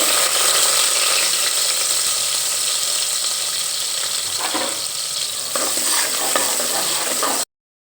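Cut onions fry in a pan for vegetable pulao. A steady, loud sizzle sits under scraping stir strokes and a few clicks, then stops abruptly into silence at the end.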